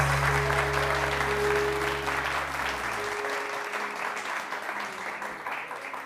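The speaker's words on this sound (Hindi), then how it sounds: "बहुत सारी तालियां मिसेस सलमा आसिम के।" Studio audience applauding Mrs. Salma Asim on a Hindi talk show, a dense, steady wash of clapping that holds for the whole stretch, with a low musical hum fading out partway through.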